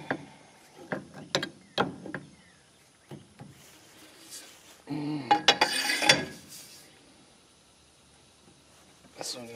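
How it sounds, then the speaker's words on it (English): Metal clanks and ratcheting scrapes of a pipe wrench working a hydraulic cylinder gland, scattered sharp knocks followed by a louder grinding burst in the middle, close and fairly quiet with no talking. "So you gotta use the next best thing."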